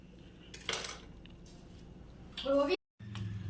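A knife slices through a homemade biscuit cake, giving a couple of short scraping, clinking cutlery sounds against a plate, heard close with a brief pause between strokes.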